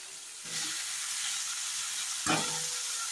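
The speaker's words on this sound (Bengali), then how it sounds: "এবার টমেটো শিম আলু ভালো করে ভেজে নেবো।" Tomato, thinly sliced flat beans and potato fry in a pan with a steady, close sizzle and hiss, briefly swelling with a stir or clatter near the end.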